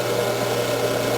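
An electric drill with a sharp bit bores steadily through plasma-cut metal, a continuous whirring grind at even pitch, close and loud.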